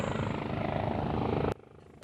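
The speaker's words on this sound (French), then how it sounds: "le vaccin contre la Covid-19 arrive par hélicoptère." A helicopter delivers COVID-19 vaccine to an isolated Breton island, its rotor and engine making a loud, steady, broadband roar that cuts off abruptly near the end.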